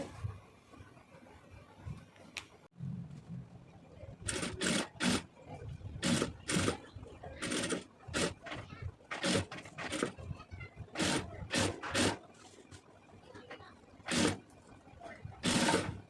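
Short bursts of a sewing machine stitching lace onto a round neckline, repeated start-stop runs close by, with quiet speech faintly underneath.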